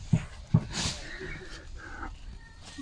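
A dog close by gives two short, sharp snorts or huffs, followed by quieter breathing and soft background noise.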